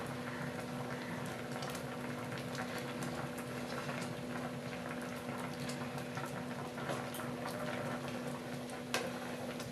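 Aparajita flower payesh with cashews simmering in a pot, a steady bubbling hiss with a constant low hum running underneath, even and unbroken throughout.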